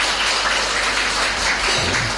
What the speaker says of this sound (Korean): 남성을 위주로 해서 한번 박수 한번 해주시기 바랍니다.